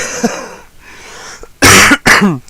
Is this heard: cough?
yes